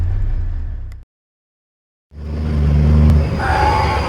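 Kenworth K100 cabover truck engine droning loudly from inside the cab while driving, cut by about a second of silence before the steady roar resumes.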